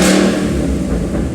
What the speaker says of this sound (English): So if I rev it up